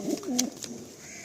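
A Malwai pigeon in a loft gives a single soft, rolling coo, close and fairly quiet, with a brief chirp over light background noise.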